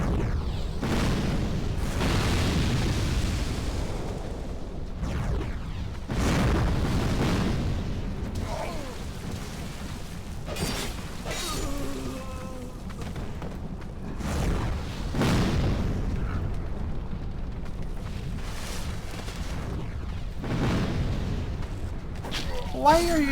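Dark Souls 2 creatures set off repeated booming explosions, loud bursts recurring every few seconds over a constant rumbling game backdrop, with brief voice sounds between blasts.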